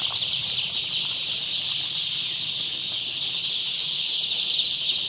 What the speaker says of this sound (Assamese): ইয়াত 3000 মান পোৱালি আছে।